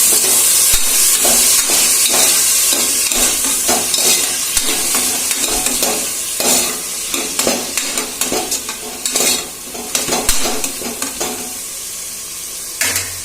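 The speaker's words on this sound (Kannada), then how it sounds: "ಈಗ ಈ ತರಕಾರಿಗಳನ್ನ ಎಣ್ಣೆಯಲ್ಲಿ 5 ನಿಮಿಷ ಚೆನ್ನಾಗಿ ಫ್ರೈ ಮಾಡಬೇಕು." Mixed vegetables for veg pulao fry in oil with a steady, loud sizzle while a spoon stirs and scrapes the pan in quick, uneven strokes; no one speaks.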